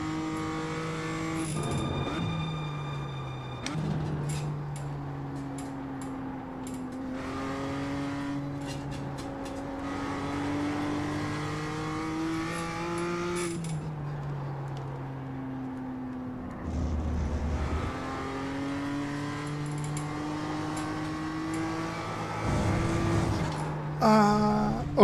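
BMW M2 Cup race car at Lime Rock in the iRacing sim, its engine rising and falling through gear changes as it revs up and drops off through corners, with brief tire squeal.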